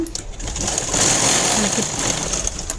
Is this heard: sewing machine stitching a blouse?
yes